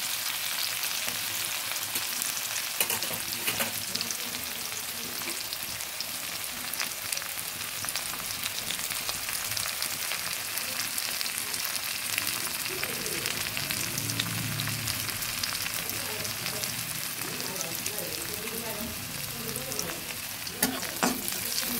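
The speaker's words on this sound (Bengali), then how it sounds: "ভালো করে পেঁয়াজগুলো ভেজে নিচ্ছি।" Onions fry steadily in a pan for a fish curry, a dense continuous close sizzle with occasional stirring scrapes throughout and no talking.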